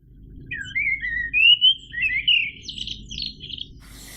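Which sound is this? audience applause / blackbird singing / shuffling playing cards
blackbird singing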